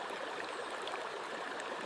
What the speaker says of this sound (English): The current rushes over stones